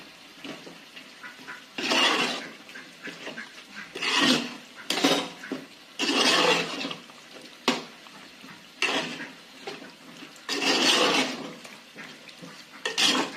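A spoon scrapes and clatters around a pan of chicken curry in repeated stirring bursts, metallic scraping rising and falling in uneven rhythm, close and moderately loud, with no voices.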